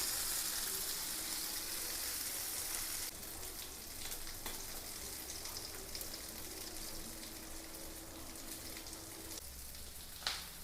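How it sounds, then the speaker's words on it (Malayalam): Six chicken pieces frying in oil give a soft, continuous crackling sizzle, faint and fairly even. The tone shifts slightly partway through, and a small pop or clatter comes near the end. "ഒരു ആറ് കഷ്ണം മാത്രമേ വറുക്കുന്നുള്ളൂ"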